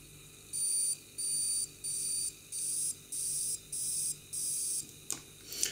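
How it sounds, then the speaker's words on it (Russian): A reed switch electronic buzzer circuit sounds off in a run of seven short, even buzzing bursts with a steady rhythm, faint and close, followed by a couple of small clicks. "Первая схема называется герконовая жужжалка."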